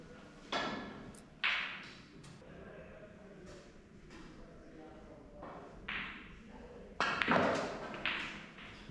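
A snooker cue strikes the ball in a screw shot out for the blue during a winter league match: a few sharp, isolated clicks and taps stand out against a room murmur and voices.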